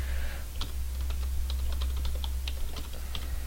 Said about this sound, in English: but you still have to type everything in anyway.